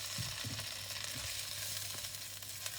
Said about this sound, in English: We mix again. Our noodles or kway teow.